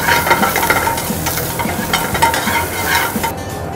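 Chopped onion sautés with chopped garlic and ginger in a hot pan for Peshwari paneer: a steady, loud sizzle with stirring scrapes running throughout, up close and without talk.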